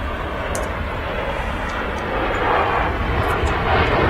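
A Ryanair jet at Manchester Airport roars with a steady, loud, broad engine rumble that swells slightly toward the end, with no talking.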